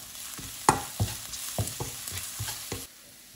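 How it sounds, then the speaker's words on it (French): Dried chili with mustard and fennel seeds frying in hot oil: a close, continuous sizzle broken by several sharp stirring scrapes and pops over a few seconds, with no voices. "Je vais faire revenir l'ensemble, dorer l'ensemble pendant 30 secondes environ."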